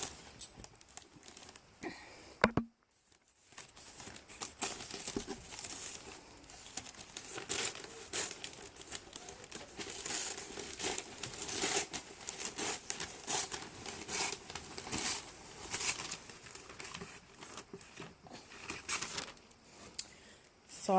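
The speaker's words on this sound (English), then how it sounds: "And then I'm gonna cut the paper." Paper being cut and handled while making a decorative storage box, with near, crisp crinkling, rustling and snipping running irregularly throughout, a short silent gap early on, all fairly quiet.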